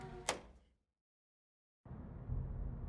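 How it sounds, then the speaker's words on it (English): Door opening in the horror video game Scarlet Hollow: a sharp click or thud, a fading rumble, then a short silence before a muffled ambient interior tone swells in. "You disconnect from the call before opening the door."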